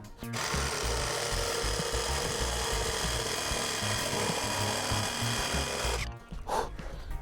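A cordless jigsaw saws through a 50x50 wooden beam, giving a loud, steady buzzing rasp for about six seconds before the blade stops and the motor cuts out.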